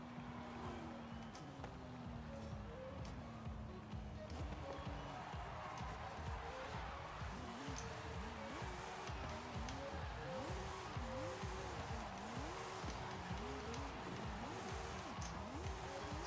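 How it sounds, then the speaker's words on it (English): Car engine in Forza Horizon 5 revving through gear changes with rising and falling pitch sweeps, steady and loud throughout, with faint game effects layered underneath. "this car just sounds so good too"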